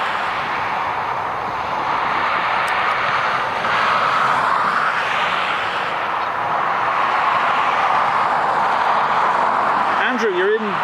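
A jet airliner taxiing at Dublin Airport gives a steady, broad engine roar that holds level throughout, with a voice talking over it.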